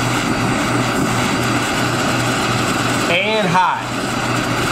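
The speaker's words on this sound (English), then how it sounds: "I'm gonna turn on the fan here" An electric fan about five feet away blows steady broadband wind noise that builds as its speed is stepped from low toward higher settings, with a person speaking briefly over it.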